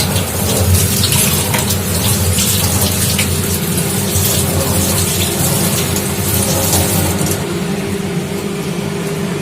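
Food rinsed under a running kitchen tap, with a steady, loud rush of water splashing continuously throughout, no talking.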